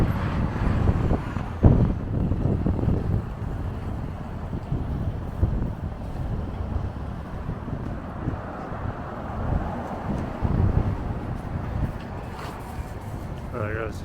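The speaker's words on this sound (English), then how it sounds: "You see how windy it is." Gusty wind buffets the microphone on a downtown Boston street near Copley Square, making a continuous low rumble with louder swells. Faint traffic and voices sit underneath.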